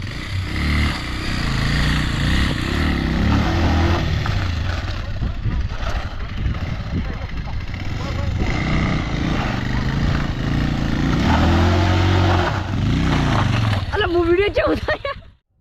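A Bajaj Pulsar 220F motorcycle engine runs steadily during a stunt at Dantiwada dam, a rough, continuous drone with voices talking over it.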